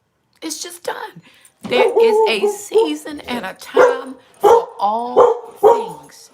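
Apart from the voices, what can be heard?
dog barking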